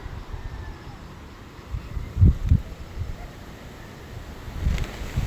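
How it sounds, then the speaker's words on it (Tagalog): Strong gusty wind during a storm buffets the microphone in low rumbling bursts, strongest midway and near the end, with faint voices mixed in. "Kusog pa kayong hangin"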